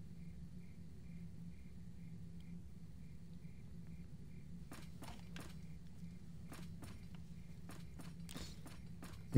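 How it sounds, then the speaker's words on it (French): Footsteps of an armored character in the video game Infinite Undiscovery, a series of faint, sharp clanking steps arriving in the second half over a low steady background hum. "Bruit de pas avec l'armure."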